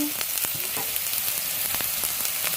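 Spices and chilli seeds fry in hot oil with a continuous loud sizzle, broken by scattered sharp pops and spatters and a faint clink of stirring.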